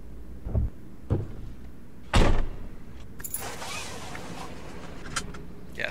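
A truck door in American Truck Simulator opens and shuts with a few distinct thuds, followed by a rustling shuffle and a faint click as someone settles in.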